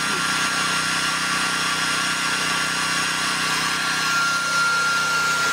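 A Toyohama 3500i portable inverter generator runs with a steady, loud, unbroken engine drone and hum that holds level throughout, with no talk over it.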